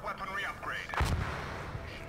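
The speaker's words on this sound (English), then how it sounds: "able to utilize their artillery fire over and over." Artillery barrage from the Dawn of War 3 real-time strategy game, with a heavy blast near the one-second mark booming low amid a busy mix of game effects and overlapping commentary voices.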